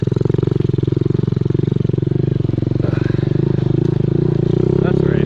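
A Honda Z50 minibike riding on a trail with a wobbly wheel, its small engine putting out a loud, steady, rapid-firing buzz close by, with a rider talking over it.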